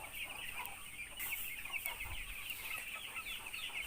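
Broiler chickens clucking in a poultry farm setting, a steady chorus of scattered clucks and squawks over constant background hum, no talking.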